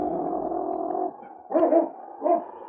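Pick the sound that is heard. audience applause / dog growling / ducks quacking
dog growling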